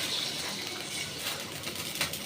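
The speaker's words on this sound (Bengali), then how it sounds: "এখন আমি জলটা দিয়ে দিব।" Water is poured into a pot of cooking fish curry made with fish, taro and pumpkin, giving a continuous close splashing gush with no voices.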